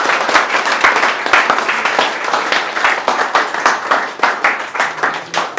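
An audience claps loudly to welcome two students selected for NUSI and TS Rahaman, steady dense applause with sharp individual hand claps close by, continuing for several seconds.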